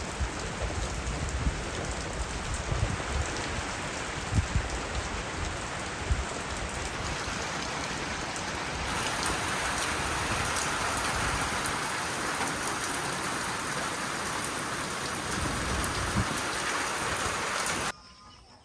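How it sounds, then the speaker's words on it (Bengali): Morning rain falls steadily on surfaces outdoors, a continuous close patter with scattered heavier drops, running alone for a long stretch before cutting off. "সকালবেলায় বৃষ্টি, জানা যায় তাই বৃষ্টি।"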